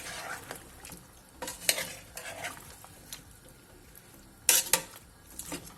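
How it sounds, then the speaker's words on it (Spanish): Wine bubbles and sizzles softly in a pan of potato and rib stew as the alcohol boils off, broken by occasional scrapes and clinks of a stirring utensil, quiet and close. "ya está haciendo ahí el burbujeo abajo con el vino"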